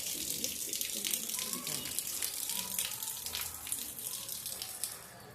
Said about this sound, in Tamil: அந்த பக்கம் நல்ல மழை